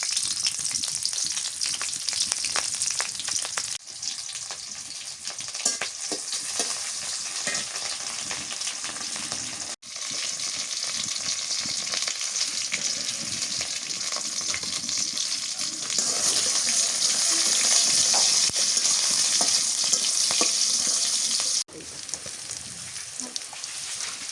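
Garlic and green chillies frying in plenty of oil for jute leaf stir-fry, a dense continuous sizzle and crackle with brief stirring breaks, close and steady throughout.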